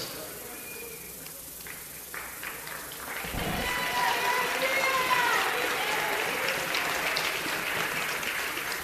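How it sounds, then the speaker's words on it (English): A gym crowd applauds a senior women's basketball player at a senior ceremony; an announcer's voice comes first, then applause swells up and holds steady. "one more round of applause for our senior, Gia Esposito!"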